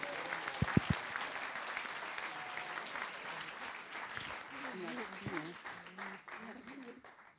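Audience applause for Marcia at a tenth-anniversary celebration evening, a steady roomful of clapping lasting throughout, with a brief low thump near the start and a voice speaking over the clapping in its second half.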